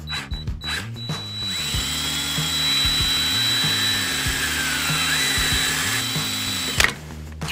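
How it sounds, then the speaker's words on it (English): A power drill bores holes in scrap wood, revving up to a loud, steady whine that holds for several seconds before winding down, with short bursts before and after. "Be sure that you're holding your drill in a straight line when drilling."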